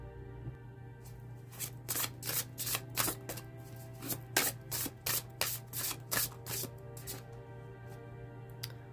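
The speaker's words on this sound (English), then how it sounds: "So now we are going to pull some oracle cards to see what comes out in this reading." Oracle cards being shuffled by hand, a run of crisp riffling bursts repeating in a quick, irregular rhythm, close and clear over a low steady hum with no talking.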